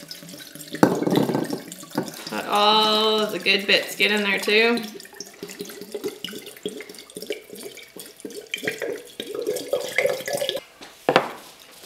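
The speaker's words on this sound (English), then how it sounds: "we are going to fill this with apple cider vinegar." Apple cider vinegar is poured into a jar packed with fire cider ingredients, giving a splashing, trickling liquid sound in bursts, with a person talking over and between the pours.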